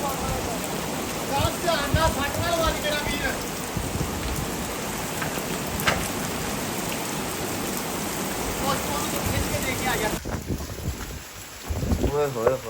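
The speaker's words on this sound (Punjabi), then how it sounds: "ਬਾਰਿਸ਼ ਬਹੁਤ ਤੇਜ਼ ਆਈ ਆ" Heavy rain pours down in a dense, steady roar of drops on surfaces, loud and close throughout with wind buffeting, while voices exclaim and talk over it.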